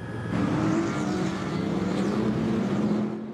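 Porsche race cars roaring together at the start of the Nürburgring 24-hour race, a dense sustained engine drone holding steady and loud, with faint commentary underneath.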